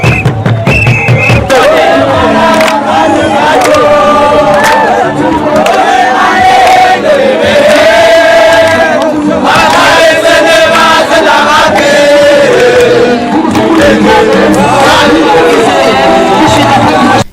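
A large crowd in Burundi celebrating with dancing and beating drums, dense cheering and shouting voices loud and continuous throughout, with rhythmic drumming and chanting mixed into the roar.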